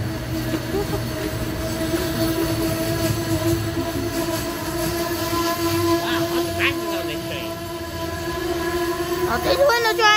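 An Amtrak Northeast Regional train at New Carrollton station rumbles steadily and close by, with sustained wheel noise and a high squeal near the end, while people talk over it.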